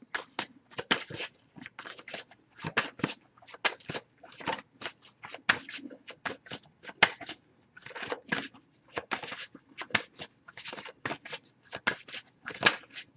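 A deck of tarot cards is shuffled by hand in quick, irregular bursts of papery riffling and tapping, close and soft, with short pauses between handfuls.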